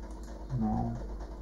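Key presses on a 2009 MacBook Pro keyboard, a few soft clicks grouped near the middle over a steady low hum, fairly faint and close by.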